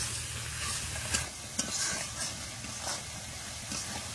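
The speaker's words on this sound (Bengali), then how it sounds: "এমন করে কষাতে হবে যাতে মশলাটা পুড়ে না যায়।" Spice masala frying in oil while being stirred in a pan, a constant sizzle broken by scraping strokes and a few sharp clinks of the spoon, close up with no talking.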